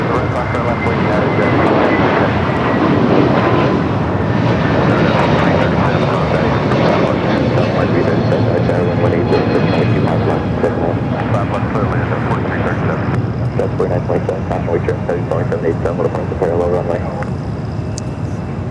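An airliner takes off from runway 25 Right at LAX, its engines giving a loud, continuous roar that holds steady throughout, with radio chatter and voices running underneath.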